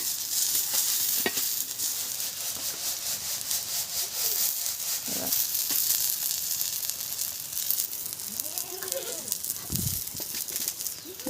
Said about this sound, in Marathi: आता थोड्याशा गवारीच्या शेंगा होत्या तेवढ्याच मी तव्यामध्ये तेलात मिठात थोड्या तळून घेतल्यात